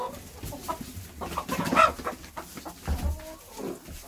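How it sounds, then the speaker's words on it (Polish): Hungry chickens clucking in a coop, several birds making close, overlapping clucks and short squawks at moderate loudness, busiest in the middle with quieter clucks after, and no talk. "kury głodne"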